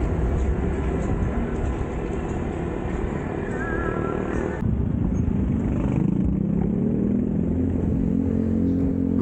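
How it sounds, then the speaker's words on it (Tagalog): Steady road traffic of cars and motorcycles on a road in Calumpit, Bulacan, slowing down; a continuous loud engine rumble and hum with passing vehicles, no talk. "May bagyang pagbagal ng mga sasakyan."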